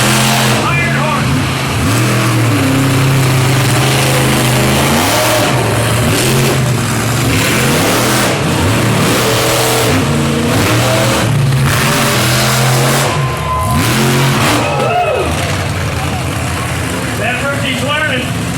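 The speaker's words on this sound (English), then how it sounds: "First round, monster truck racing." Monster truck engines roar and rev hard in a Chicago-style side-by-side race heat, loud and continuous with rising and falling pitch sweeps, under an announcer's talk.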